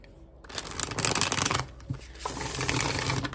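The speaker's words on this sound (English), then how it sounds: "one more quick shuffle here, guys." Tarot cards are riffled and shuffled close up in two quick rustling bursts, a brief soft tap between them.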